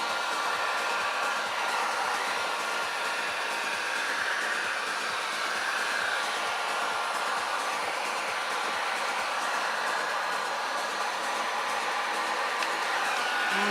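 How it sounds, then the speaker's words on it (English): A heat gun blows steadily over an acrylic paint puddle pour, making a constant, even airy hiss and whir like a hair dryer, close and unbroken for the whole stretch with no talking. "I don't know why my heat gun does not move things along."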